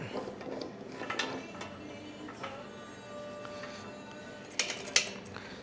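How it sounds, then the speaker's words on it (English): A bottle jack is set up under a 1932 Ford heavy axle, with quiet metallic clanks, ratcheting clicks and handling knocks, sharper taps near the end, no talk. "Let's get our bottle jack set up."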